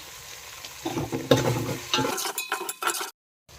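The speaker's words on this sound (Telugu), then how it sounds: "ఒక స్పూన్ అల్లం వెల్లిగడ్డ వేసుకుందాం. కలుపుకుందాం." Ginger garlic paste is stirred through onions and turmeric in a pan for chicken curry, a spoon scraping and rustling over a soft sizzle in uneven strokes before it cuts off abruptly near the end.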